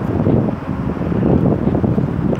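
Wind blows outdoors around a Zeekr 001 electric car, a loud, low, rumbling buffet that pushes against the microphone in uneven surges.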